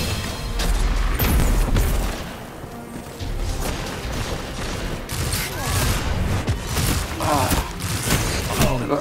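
Gunfire and heavy impacts during an Iron Banner match in Destiny, with loud continuous bursts and booms layered over game noise, a voice talking intermittently underneath.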